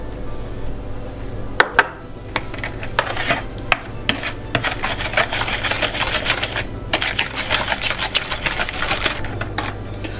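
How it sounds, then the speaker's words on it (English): An electric mixer beats a whole egg and an extra yolk into chocolate chip cookie dough, a steady whirring with rapid clattering taps against the bowl throughout, close and fairly loud with no talking. "then you beat that together until it's light and creamy"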